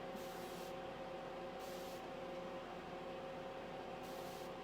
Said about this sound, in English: All right, so now I'm gonna spritz it.